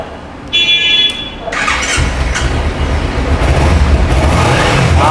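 A Kawasaki Ninja 300 motorcycle starts up with a short high squealing whine from the starter, then the engine catches and settles into a loud, steady rumbling idle close by.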